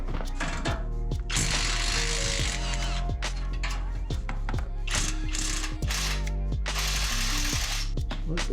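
A ratchet with an extension turns a bolt on a Toyota Tacoma front axle, giving rapid repeated metallic clicking in close, steady bursts, with brief pauses between strokes and some clanking of tools.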